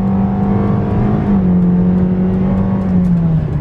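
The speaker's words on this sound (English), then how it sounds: "0-60 in a Toyota Corolla." Toyota Corolla accelerating from 0 to 60 mph, heard from inside as a loud, steady engine drone with a sustained tonal whine that rises and then slowly sags, continuous and without speech.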